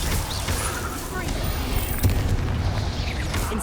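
Confringo fire-blast spells being cast in rapid succession in Hogwarts Legacy, amid a mine battle: a dense, continuous rumble of booming blasts and crackling bursts, loud and steady throughout, with one sharper hit near the middle.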